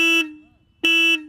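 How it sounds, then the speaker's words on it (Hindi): The horn of a Royal Enfield Hunter 350 motorcycle sounds in two short, loud, steady honks separated by a brief pause, close by and alone. "इसका एक बार हॉर्न सुना देते हैं कि हंटर 350"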